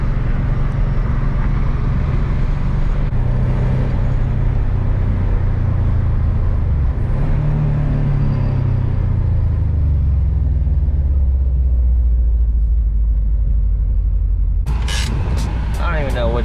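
Subaru Impreza 22B STi driving to a gas station, a steady loud low engine and road rumble throughout that shifts in pitch as the car changes speed, with a short burst of sharp ticking near the end.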